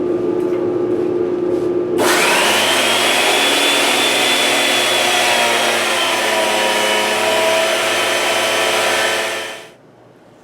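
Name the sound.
Powertec blade planer planing knotty fir, dust collector running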